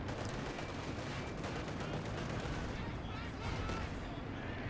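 A 120mm mortar fires in a Company of Heroes 2 battle, its booms mixed into continuous dense gunfire and explosions that fill the whole stretch at steady loudness.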